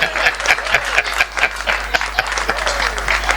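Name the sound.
audience applause at a Hindi poetry gathering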